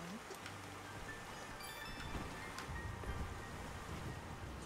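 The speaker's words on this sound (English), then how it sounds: "I can hear the water rush." Rushing water in the game Dust: An Elysian Tail, a steady broadband wash that holds evenly throughout with a faint gust-like swell partway, heard alone without talk.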